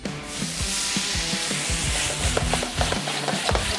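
Lemon juice hitting a hot pan of charred shrimp with shallots and garlic in shrimp scampi, giving a loud, steady close sizzle and hiss while the pan is stirred and scraped in repeated strokes.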